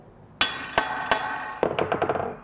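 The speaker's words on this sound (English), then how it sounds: "This is a tinner's rivet where it has to be hammered on." A soft metal tinner's rivet being hammered with a rivet set on sheet metal for a burger flipper: three sharp, ringing metallic strikes spaced apart, then a quicker run of lighter taps, close and alone.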